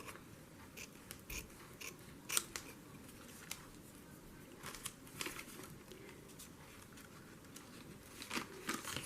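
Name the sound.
cutting paper with scissors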